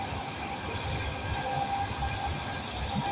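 An old train rolls along at night with a continuous rattling rumble and a faint sustained high whine, heard from inside at a steady moderate level.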